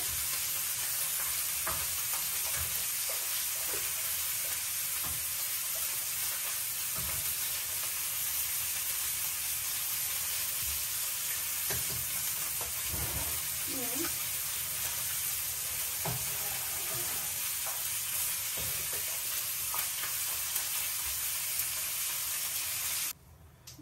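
Fish fries in a pan, giving a continuous close sizzle with occasional stirring scrapes and small pops, steady throughout with no voices.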